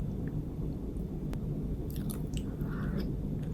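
Chewing while eating homemade eggs Benedict: soft, close, moist mouth sounds and small bites over a steady low background rumble, no talking.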